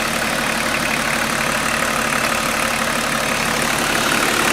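A BMW E36 325 tds Touring diesel engine idles with a steady, even hum, no revving or other noise.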